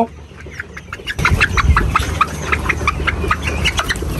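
Tiger chickens clucking in a repeated, fairly close series of short calls over a low background rumble, starting softly and growing busier after about a second.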